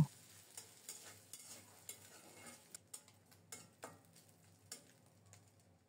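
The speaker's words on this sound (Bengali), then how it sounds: "নারিকেলটাকেও লাল লাল করে ভেজে নেব।" Grated coconut fries in a pan until reddish-brown for a Bengali dish, with a faint, soft sizzle and repeated light scraping taps from stirring at irregular intervals, quiet and without voices.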